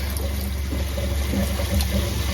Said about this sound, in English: Now the water's coming like a constant stream.